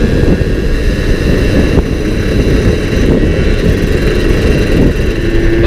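A Zundapp motorcycle engine with a manual gearbox roars at speed, a loud, continuous close-up drone that holds steady throughout with no voices.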